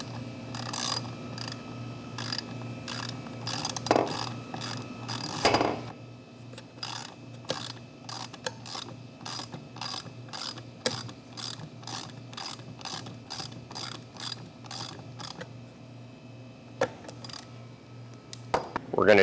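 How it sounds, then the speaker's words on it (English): A half-inch ratchet socket snugs down a pulley on the motor of a Dewalt 735 thickness planer, giving a close, rapid series of sharp pawl clicks in steady bursts with a few metallic knocks and no talk. "I am going to snug that pulley down with a 1/2 inch socket and a pair of needle nose pliers."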